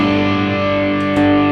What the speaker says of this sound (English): Have a listen to the drive sound.